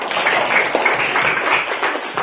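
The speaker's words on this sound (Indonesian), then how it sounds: "Tepuk tangan buat teman kita" Schoolchildren in a classroom clap for a classmate during a Ramadan fasting lesson, a steady, fairly loud patter of many small hands lasting a couple of seconds with no talk over it.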